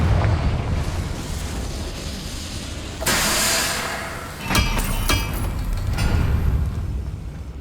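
Confringo fire spell exploding in Hogwarts Legacy, a loud burst with a sharp onset followed by rumbling, then further cracking impacts and booming debris over a low continuous roar.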